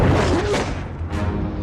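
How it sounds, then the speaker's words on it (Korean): A grenade explodes against an invisible shield on an alien tripod machine in a film scene. It gives a loud, close boom with a crashing rumble, followed by a second burst of debris-like noise. "보이지 않는 보호막에 폭발은 막혔지만"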